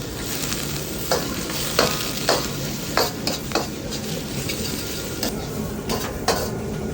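Squid stir-fried with onion leeks in a pre-seasoned wok, a steady close sizzle broken by repeated sharp scrapes and clacks of a spatula against the pan.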